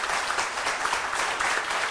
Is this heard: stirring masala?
no